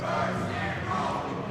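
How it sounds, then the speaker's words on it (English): A hockey crowd chants together in the stands during a UNM Lobos versus NAU Ice Jacks game, a steady, distant wash of massed voices lasting only a moment. "mercy rule is what they're chanting now in the crowd"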